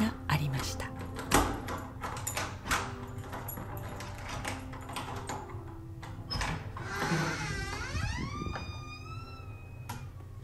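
Hotel room door in an old hotel in Arles, Provence, unlocked with a metal key in a keyhole: a series of close clicks, rattles and latch knocks, then the door swinging open with a long creak at the end.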